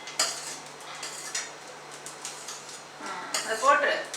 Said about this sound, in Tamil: சாதம் வந்து பிரேக் ஆகாம கலக்கணும்